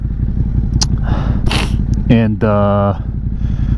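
A Suzuki SV650 motorcycle engine drones steadily while riding on an early-morning ride, a low continuous rumble running beneath someone talking throughout.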